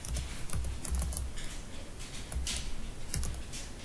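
Steady typing on a computer keyboard while entering text into braille software, a quick irregular patter of soft key clicks, close but fairly quiet, with no talking.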